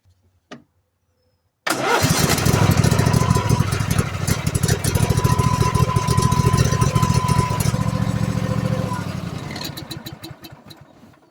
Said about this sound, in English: Now it's time to start it and idle it for a few minutes.